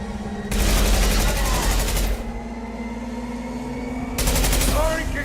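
Automatic gunfire in Mass Effect 2, two long loud rattling bursts separated by a short pause, over a low steady hum with some game noise.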